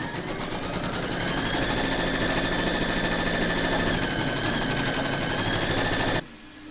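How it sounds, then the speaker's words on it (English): An embroidery machine stitches a placement outline for batting on a hoop-held in-the-hoop snowflake, a steady loud mechanical whir running alone for about six seconds before stopping abruptly. "Pop your hoop into your machine and stitch round number 1, and that's going to give you your placement outline for your batting."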